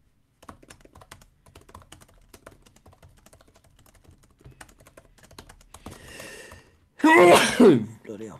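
A single sharp sneeze bursts out loudly near the end, following a soft breath, after a stretch of faint keyboard tapping in a quiet room.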